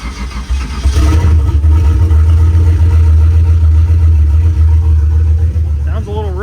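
A turbo LS engine in a rat rod truck cranks and fires, then settles into a loud, rough, uneven idle that stays close and steady, with a voice speaking briefly near the end.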